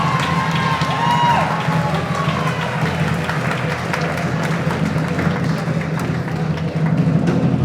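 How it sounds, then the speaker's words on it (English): Wedding reception crowd applauding the mother of the bride, a steady wash of clapping and cheering in a large room, moderately distant and sustained throughout. "Round of applause for the mother of the bride, Miss Bernice Slotnick."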